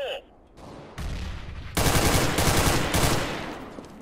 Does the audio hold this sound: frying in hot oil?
no